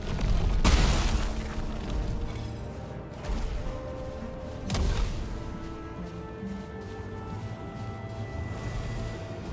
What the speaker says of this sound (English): Try and explode these things.